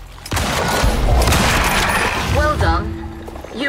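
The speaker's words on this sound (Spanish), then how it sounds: "si yo te disparo a través de esto, te doy" Rapid gunfire bursts in the survival video game Icarus New Frontiers, a loud sustained fusillade with booms over steady action noise, trailing off into electronic tones near the end.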